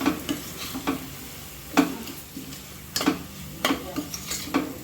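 Masala with spices and a little Kashmiri chilli being sautéed for a chicken gravy, with a spoon scraping and stirring the pan in several separate strokes over a soft, steady sizzle.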